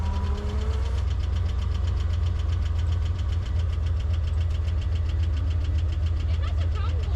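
A 1975 Rolls Royce Silver Shadow with SU carburettors idles loudly and steadily, a deep continuous engine rumble with some knocking as it is loaded, while a person speaks over it.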